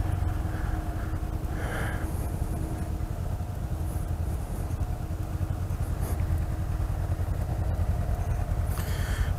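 A 2017 Honda Grom motorcycle being ridden gives a steady, fairly loud small-engine drone, mixed with rushing wind across the microphone, with no speech.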